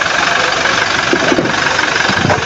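The diesel engine of a 2024 Toyota Land Cruiser Prado (J250) idles with a dense, rattling rumble and knocking vibration, close and continuous throughout.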